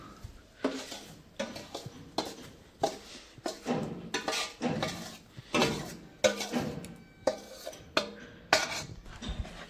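Adadiya ingredients being stirred and mixed in a pan, with repeated rhythmic scraping and clinking strokes of a spoon against metal, each stroke a short, fairly close burst, and no voices.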